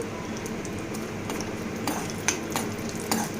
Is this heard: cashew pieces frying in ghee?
yes